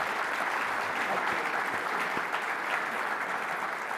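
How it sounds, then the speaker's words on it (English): A large audience at a U.S. Conference of Mayors winter meeting plenary session applauds the mayors, a dense, steady roar of clapping that fills the hall evenly throughout. "Can you give these mayors a round of applause?"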